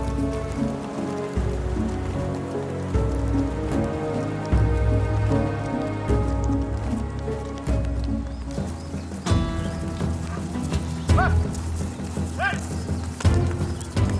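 Hooves clip-clop steadily over a rainy, pattering background, with occasional horse snorts and other sounds mixed in.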